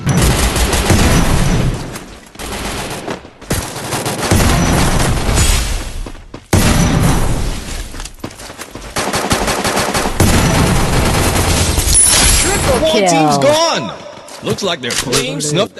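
Rapid gunfire from the Free Fire video game rattles in long loud bursts with brief gaps, ending in a swirl of game effects.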